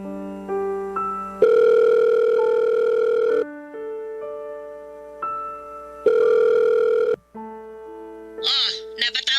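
A cellphone call to mom rings out in repeated electronic tones, long steady beeps alternating with short melodic pitch steps, loud and close, ending in a brief warbling chirp.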